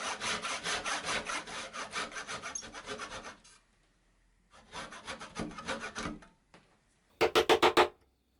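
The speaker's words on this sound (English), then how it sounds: "Then I could cut out the tail and the miter on the front edge." A hand saw cuts a dovetail tail and miter in wood: rapid rhythmic rasping strokes in two long runs separated by a pause, then a short burst of a few sharper strokes, close and alone.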